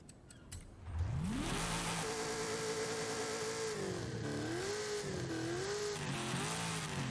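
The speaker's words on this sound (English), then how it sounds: "That's the stock engine." Stock engine of a car built in the Forza racing video game, revving up from idle after a second and holding a loud, steady drone with rising and wavering pitch as the throttle is worked, alone without talk.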